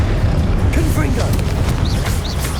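Fiery Confringo spell blasts in the Hogwarts Legacy video game: dense, rumbling bursts and crackling impacts that keep going over a steady roar of game combat, loud and close.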